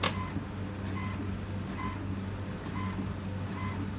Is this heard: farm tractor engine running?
no